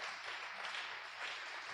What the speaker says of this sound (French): Acclamez un peu le Seigneur.